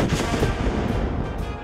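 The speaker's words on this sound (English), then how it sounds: "The cannon fire is ongoing" Dense, continuous rumbling booms of Civil War cannon fire during the siege of Vicksburg roll on without a break, loud and distant-sounding, with no clear gaps between blasts.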